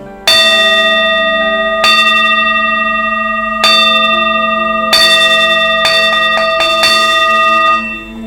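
A brass singing bowl struck several times at uneven intervals, each strike bright and ringing with long sustaining overtones.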